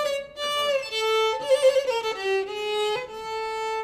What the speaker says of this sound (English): maybe what I would want to do is give a little trill